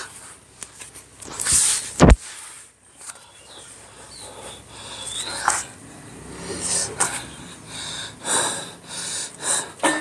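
Heavy, ragged breaths and gasps after a 15-minute home workout, close to the mic with sharp snorting exhales and a few footsteps, loud bursts between quieter panting.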